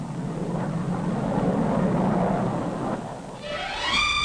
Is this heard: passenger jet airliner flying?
yes